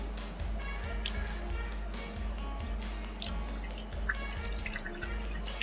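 White balsamic and white vinegar are poured into a hot sauce made from fermented hot peppers, producing a thin trickling, dripping liquid stream with small splashes, close and fairly quiet.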